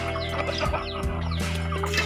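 Hens cluck steadily and softly in a busy chorus, several birds close together with overlapping short calls over a constant background hum.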